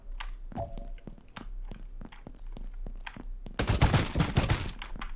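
Gunfire in PUBG Mobile's toy soldier Mini Royale mode: scattered single shots and footsteps, then a dense, loud burst of rapid firing near the end.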